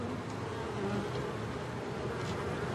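Honeybees buzzing around a hive frame in an urban apiary in a city centre, a steady dense hum of many insects close by, continuous and unbroken with no voices.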